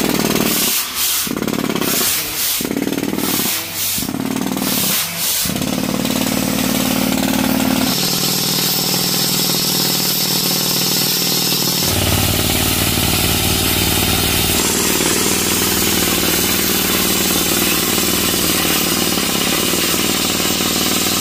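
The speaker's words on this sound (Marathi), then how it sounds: "इकडे जनरेटर आहे त्यांच्या गाडीवर आणि त्याचा पाईप हायड्रोलिकचा त्याच्यामध्ये गेलाय" A generator on a vehicle powers a hydraulic machine through a hose: loud, continuous mechanical grinding and engine roar, pulsing rhythmically for the first few seconds, then settling into steady running with no talk.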